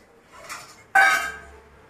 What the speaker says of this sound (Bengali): এখন আমি এটাতে ঢাকা দিয়ে দেব